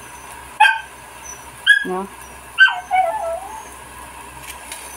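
A hungry dog whimpers and yips in a few short, close bursts, with high whining cries and a lower bark-like sound spread over several seconds, and a person briefly speaks among them.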